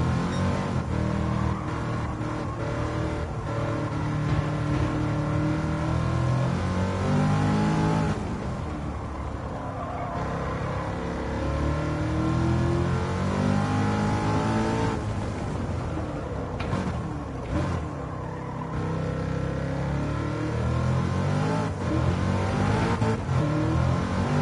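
A Corvette race car engine in Gran Turismo 7 revs and climbs through gears, loud and continuous with repeated rising pitch sweeps and short dips at shifts, running alone without talk.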